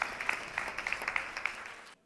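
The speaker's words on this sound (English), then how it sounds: "Just give him a round of applause while he comes up." Scattered audience clapping at a member dealers' awards event as the committee chairman comes up on stage, fairly faint, with a handful of distinct claps over a soft wash, stopping abruptly.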